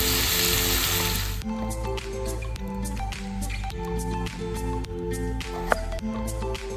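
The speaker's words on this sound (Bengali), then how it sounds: "পেঁয়াজ ভালো করে ভাজা হয়ে গেছে" Onions fry in a pan with spices, giving a steady close sizzle that starts as a loud burst, then settles into dense crackling with scattered pops and drips.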